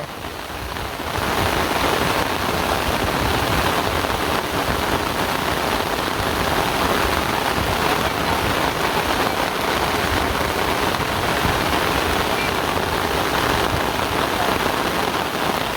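Steady heavy rain pours down, a dense continuous hiss of drops hitting surfaces, loud and unbroken throughout.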